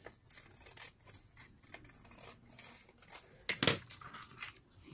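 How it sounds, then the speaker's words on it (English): Scissors snip old magazine paper for an art project, several quiet close-up cuts and paper rustles with one sharper crisp snip near the end, no talking. "Maybe here I will cut a little bit from here to make that beautiful frame around."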